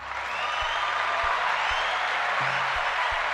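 A podcast studio audience claps in a steady, moderately close wash, with some deep thumps and low music-like tones running underneath.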